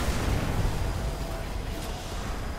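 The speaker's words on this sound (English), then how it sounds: "Dropping left bomb." A bomb explosion in the Destiny raid Wrath of the Machine, a video game, fills the clip with a dense, loud, sustained roar and rumble that holds steady throughout.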